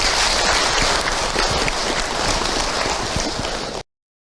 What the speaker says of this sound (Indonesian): Tepuk tangan buat Bunda semua.